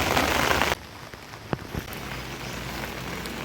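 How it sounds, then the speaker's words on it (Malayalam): Heavy morning rain roars loudly at first, then drops to a softer, steady patter with a few close drips and knocks. "രാവിലെ തന്നെ നല്ല മഴയായി, കണ്ടില്ലേ?"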